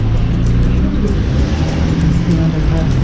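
A city bus passes on a street in the Chemin de la Côte-des-Neiges area, its loud, continuous low engine rumble close by, with a person talking over it.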